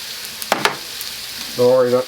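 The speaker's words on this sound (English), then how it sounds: "And now we get the sauce on the other portion of it, which this was the sweet barbecue sauce with the lower carbs in it." Sweet low-carb barbecue sauce sizzles on sloppy joe meat in a hot pan: a soft, steady fry with two sharp clicks near the start and a short tonal squeal at the end.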